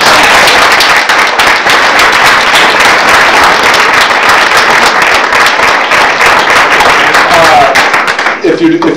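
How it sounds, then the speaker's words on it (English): Audience clapping at a poetry reading, a dense, steady wash of many hands filling the room for about eight seconds before cutting off abruptly. "Let's have another round of applause."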